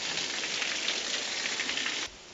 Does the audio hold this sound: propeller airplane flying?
no